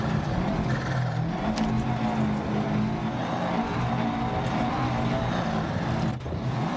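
A rally car in Dirt Rally 2.0 holds 6th gear on a Finland stage, its engine droning loud and steady at high revs with gravel roar throughout and a brief dip near the end.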